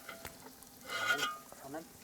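Chicken with spices is stirred and fried in a pan for a Gond tribal dish. Faint scraping stirs and a soft sizzle come in uneven bursts, with a brief murmur of voices near the end.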